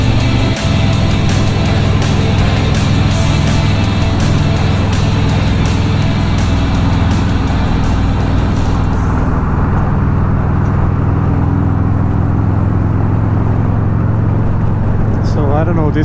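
Interior road noise from a car crawling in heavy highway traffic near Seattle, a loud, steady low rumble and drone throughout. The high hiss drops away partway through, and the engine and tyre noise continue alone with no speech.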